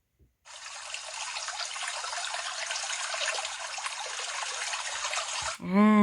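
A teacher's voice imitates flowing water with a steady, breathy hiss that runs for about five seconds, then breaks off into a short voiced sound.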